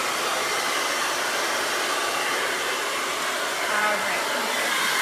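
A hair dryer blows steadily at close range, a loud, continuous airy roar with no break and no voices.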